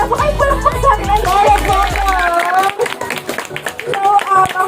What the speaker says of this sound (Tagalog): Wala pa kayo palakpak sa akin.